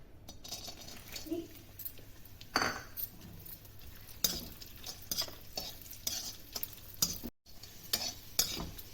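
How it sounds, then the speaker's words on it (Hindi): Raisins frying in desi ghee for laddu give soft, steady sizzling with intermittent scraping stirs of a spoon against the pan, heard close with no talking. "अब हम सौगी तलेंगे"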